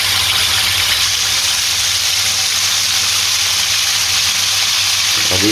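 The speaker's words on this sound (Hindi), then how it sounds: "अभी 4 से 5 मिनट और लगेंगे इनको मज़ीद इधर फ्राई होते हुए" Chicken wings coated in crumbs fry in hot oil for crispy restaurant-style hot wings, giving a steady, dense sizzle that stays loud and even throughout with no talking.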